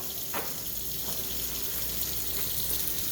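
Tap water runs steadily into a kitchen sink as something is rinsed during cookie baking, a soft continuous hiss with a few faint splashes, heard alone at low level.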